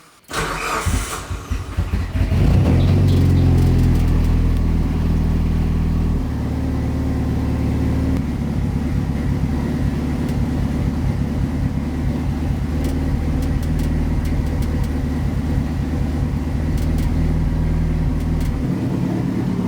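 A fully built Mitsubishi Evo 9 engine cranks and fires for the first time, then settles into a loud, slightly uneven idle with occasional blips, heard up close without talk.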